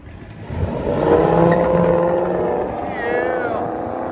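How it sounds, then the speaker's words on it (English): A Ford Crown Vic 4.6L V8 with Flowmaster Outlaw mufflers and 4-inch tips revs up through its exhaust in a loud, deep, close rumble that swells, holds, eases and builds again, with people talking over it. "Ford Crown Vic with Flowmaster Outlaws and 4-inch tips."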